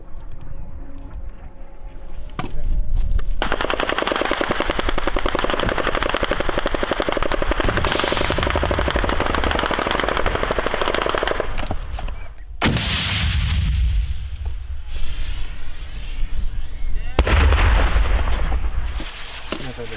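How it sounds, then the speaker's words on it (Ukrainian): Heavy gunfire on a battlefield in Ukraine, long loud rattling bursts of automatic fire mixed with sharp booming shots, pausing briefly and then resuming, with a sharp crack near the middle. "Це вже по нас стріляють?"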